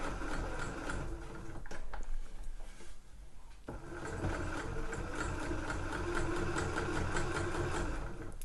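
A sewing machine runs steadily, stitching a fabric shoe bag, its motor whirring at close range with a brief slowdown partway through before it resumes its even hum.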